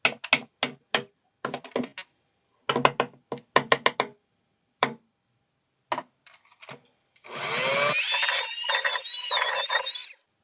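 Electric mixer beating gooey butter cake batter in a bus kitchen, heard as a close, steady whir for about three seconds after a run of sharp taps and knocks.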